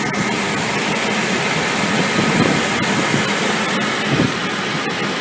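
A 3.3-liter V6 car engine running rich after a cold start, with the hood open, idles with a steady dense rumble and hiss, close and continuous, with no talking.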